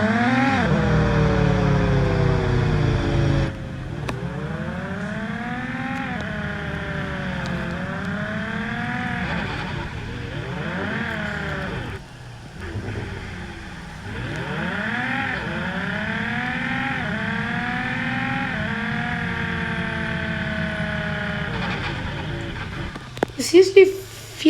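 A car with a modified exhaust revs and accelerates in repeated surges, its engine note climbing and dropping in waves up close, with a brief lull midway and someone talking throughout.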